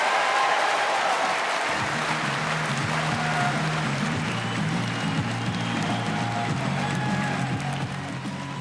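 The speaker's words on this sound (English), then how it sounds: "The SNP leader, Nicola Sturgeon, taking the applause there at the Scottish Exhibition and Conference Centre after a keynote conference speech." Large conference audience at the Scottish Exhibition and Conference Centre applauding after a keynote speech at the SNP Spring Conference, a dense, steady wash of clapping that holds strongly throughout with some cheers mixed in.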